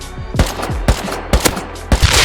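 Gunfire in the video game Rust cracks out in loud bursts, several rapid shots clustered in quick succession with brief gaps between volleys, close and dominant with no talking.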